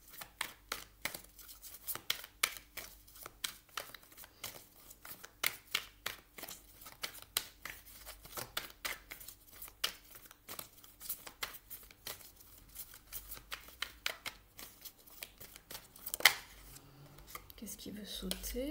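Tarot cards being shuffled by hand, soft, fast rhythmic riffles and flicks repeating steadily and close up, fairly quiet throughout.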